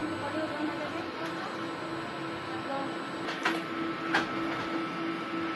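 A DTF printer runs a print head cleaning cycle, a steady mechanical whir with a constant tone, light rattling and a few sharp clicks and knocks, close by.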